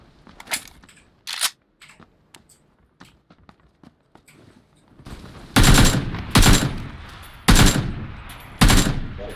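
Gunfire from an AK rifle in the battle royale game PUBG: scattered quieter shots early, then several loud, sharp bursts of rapid automatic fire close by in the second half.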